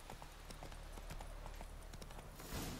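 A horse gallops with a steady, rapid clip-clop of hooves in The Witcher 3: Wild Hunt, heard alone and fairly faint against the game's background ambience.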